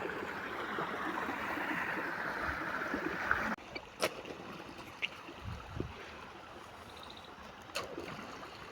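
Canal water flows steadily along an irrigation channel, a faint continuous rush broken by a few small knocks and splashes.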